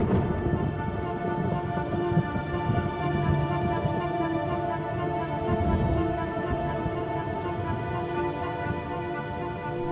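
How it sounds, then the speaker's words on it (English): Heavy, ceaseless rain pours down steadily in a dense, even roar, with a low rumble suggesting distant thunder beneath the downpour and no voices. "the rains continue to fall in a ceaseless torrent"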